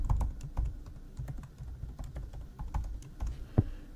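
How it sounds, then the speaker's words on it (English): Close, quiet key taps on a computer keyboard as a username and password are entered, an irregular run of clicks with brief pauses. "I'm going to put in my username, and I'm going to put a password in."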